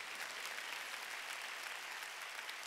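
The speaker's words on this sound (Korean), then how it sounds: "깨달은 사람만 박수치라고" A church congregation at a Sunday worship service claps in a dense, steady wash of applause, even and fairly faint throughout, with no voices over it.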